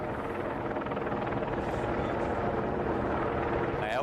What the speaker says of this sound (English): LA County Sheriff's helicopter circling 400 or 500 feet above. You can hear that.